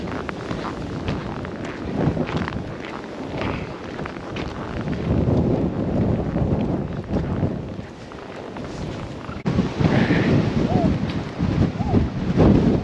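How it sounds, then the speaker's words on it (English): A strong blizzard wind gusting at an estimated 70 to 80 kilometres per hour roars and buffets the microphone in heavy, uneven surges that swell louder toward the end, with people talking over it. "I think the winds must be 70 or 80 kilometers at least"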